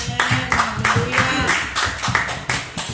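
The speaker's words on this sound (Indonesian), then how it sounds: "Beri tepuk tangan." A church congregation claps along in rhythm, bursts of handclaps recurring at a steady beat under a voice and some background music, moderately loud and close.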